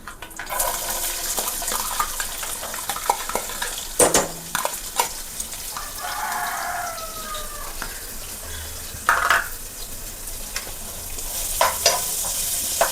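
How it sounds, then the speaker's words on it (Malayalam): Garlic fries in hot oil with a continuous bright sizzle, broken by sharp clinks and scrapes of stirring. "ചൂടായിട്ട് നമുക്ക് വെളുത്തുള്ളി ഇട്ട് കൊടുക്കാം."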